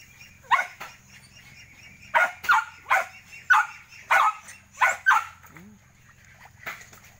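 Several dogs bark in short, loud bursts, roughly seven barks in uneven clusters over a few seconds, fairly close by, with brief quiet gaps between them and no talking.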